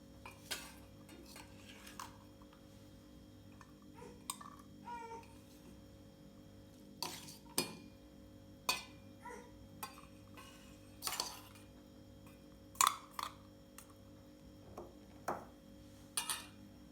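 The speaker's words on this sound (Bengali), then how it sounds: "তো বক্সের ভিতরে এখন আমি আস্তে আস্তে খাবারগুলো ভরে দিব।" Scattered sharp clinks and taps from containers and utensils as cooked food, rice and fried okra among it, is packed into a lunch box late at night, faint against a steady low hum, with no talking.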